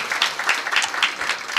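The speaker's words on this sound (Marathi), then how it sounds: "यांच्यासाठी एकदा जोरदार टाळ्या झाल्या पाहिजे महाराज" Applause from a kirtan audience, a dense steady burst of clapping filling the whole moment, close and fairly loud with no voice over it.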